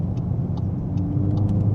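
A Volkswagen MK8.5 Golf R drives along with a steady low engine and road rumble heard from inside the cabin, with a few faint ticks above the hum.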